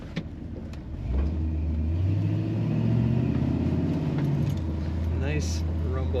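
A 1986 Chevrolet C10 LS truck engine and exhaust rumble while driving, a deep steady drone that swells after a second and shifts pitch as the revs rise and settle, with a voice talking over it.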